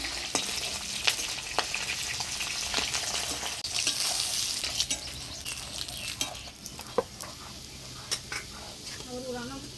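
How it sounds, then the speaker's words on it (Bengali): Pieces of shol (snakehead) fish fry in hot oil, giving a continuous bright sizzle and crackle. A utensil clicks against the pan now and then, and a voice briefly speaks near the end. "মাছ সব ভাজিয়ে নিলাম, এবার তুলে নেব।"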